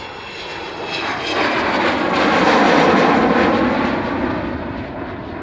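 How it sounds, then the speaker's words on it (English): A propeller aircraft approaching to land after a wing rock at an air show, its engine drone swelling loudly as it passes nearby and then slowly fading, with no talk. "But arriving, doing that fantastic wing rock and coming into land."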